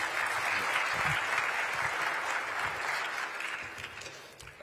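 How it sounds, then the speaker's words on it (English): A crowd claps for a guest named Sam at a live Detroit news event, sustained even applause that slowly tapers off toward the end, with no one speaking. "Please give Sam another round of applause"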